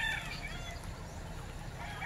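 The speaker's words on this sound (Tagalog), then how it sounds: "Daming mga manok." Chickens and roosters clucking and calling in a busy farmyard, a steady chorus of birds with a faint crow mixed in.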